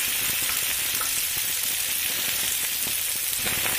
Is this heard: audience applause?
no